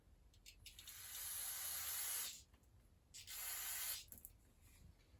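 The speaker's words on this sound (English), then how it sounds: "let's rinse this off real quick" A chainsaw muffler from a STIHL MS362 is rinsed with two long hissing sprays, each lasting about a second or more, with a short pause between them. The sound is close and fairly quiet, and no one talks.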